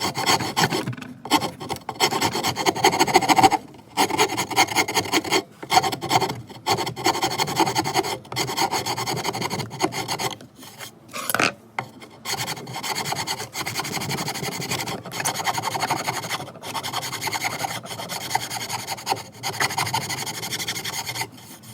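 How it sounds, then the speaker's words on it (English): Hand files rasp along the hard edges of a wooden tradie's toolbox in steady back-and-forth strokes, close and fairly loud, with brief pauses between runs and no talking. "which is why we're going to be using files."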